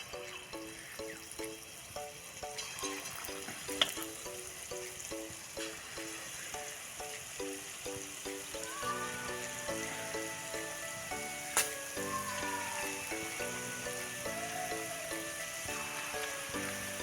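Bottle gourd fritters frying in hot oil in a wok, a continuous soft crackling sizzle under a steady background tune, with a couple of brief clicks.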